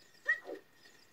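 A short, soft dog yip or whimper from the Ocarina of Time video game, a single faint bark-like cry lasting well under a second against near silence.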